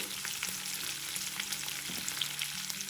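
Sliced onions with curry leaves and salt fry in a pan for a potato dish, giving a steady, dense sizzle that runs unbroken throughout with small crackles and no voices.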